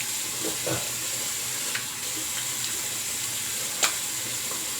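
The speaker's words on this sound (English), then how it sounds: "so I'm going to do the cold water splash" Cold tap water runs steadily into a sink while it is splashed onto a face before a wet shave, with a few distinct splashes breaking through the constant close hiss.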